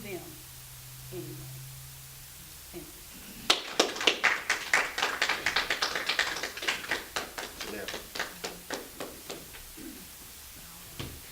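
A small audience claps at a youth leadership program event, starting abruptly after quiet and continuing as sharp, distinct handclaps that gradually thin and fade away; faint talk is heard before the clapping begins.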